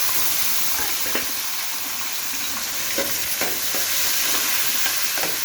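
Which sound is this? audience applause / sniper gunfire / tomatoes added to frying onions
tomatoes added to frying onions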